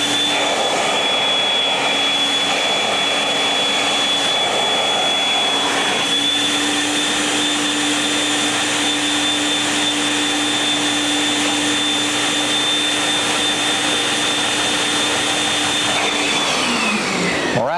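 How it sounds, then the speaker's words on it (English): A carpet-cleaning vacuum tool runs loud and close on a carpet spot in a 1991 cleaning seminar, a steady high whine and roar that holds throughout, then winds down at the very end. "let me see the vacuum tool and we'll crank it up and see what we can do with this horrendous spot"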